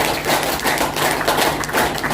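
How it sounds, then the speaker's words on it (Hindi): A crowd at a distributor programme in Karnal claps loudly and continuously, a thick, even roar of many hands with a few heavier thumps standing out, close and dense for the whole stretch. "बार आप सभी से जोरदार तालियां चाहूंगा आप सबके लिए"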